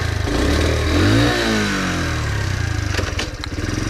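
A motorcycle engine revs up and settles into a pulsing idle with a few throttle blips, close and loud, with no talking.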